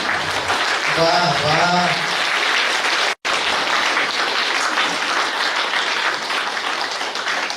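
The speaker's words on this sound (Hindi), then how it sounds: "बाबा की याद में खूब जोर जोर से ताली बजा के" Loud, sustained applause from an audience at a New Year celebration at the Shanti Shakti Sarovar retreat centre in Bhagwanpur, Bihar, with dense clapping throughout. A voice calls out briefly near the start.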